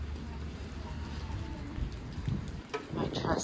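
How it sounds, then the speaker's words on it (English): Light drizzle falling outdoors on Creek Street in Ketchikan, Alaska, a soft steady patter of fine drops that runs the whole clip, with a faint voice and a few small knocks near the end. "It's back to being just a drizzle."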